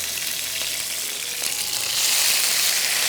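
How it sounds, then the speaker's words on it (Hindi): Okra (bhindi) fries in a pan over high heat, giving a steady loud sizzle and crackle that swells toward the end, with light stirring and no talk. "इसको हमने तेज़ आंच पे करना है फ्राई, और ये मुकम्मल पकनी है"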